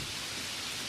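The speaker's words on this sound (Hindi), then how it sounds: "केवल बाहर बारिश की आवाज सुनाई दे रही थी।" Steady rain pours outside a lonely house during a ghost story, a dense continuous hiss with a low rumble of thunder beneath, filling the whole moment without any voices.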